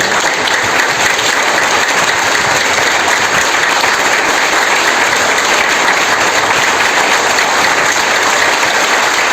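An audience claps steadily and loudly at a leadership talk, a dense, even wash of applause that continues for the whole stretch with no voices over it.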